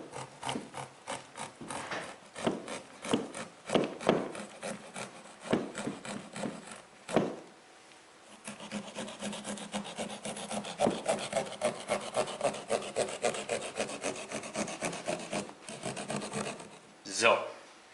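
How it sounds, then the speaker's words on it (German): A knife saws through a pumpkin shell along a marked line to cut out a hole, giving close, steady rasping strokes in a rapid rhythm with a short pause midway and a sharper scrape near the end. "nehmen wir das Messer, setzen es rein und schneiden quasi einmal der Markierung entlang das Loch aus"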